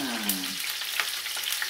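Peppers frying in a shallow layer of oil on a home stove, a close, continuous bright sizzle with faint crackles and spatters and no talking.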